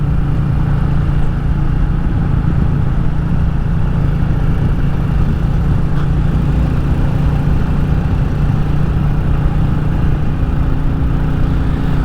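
Royal Enfield Classic 350 motorcycle engine while riding on country lanes in Powys, a steady low droning thrum with wind rush, continuous and even in level for the whole stretch.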